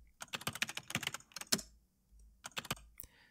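Quick bursts of keyboard typing, close and crisp, with a short pause in the middle before a few more keystrokes.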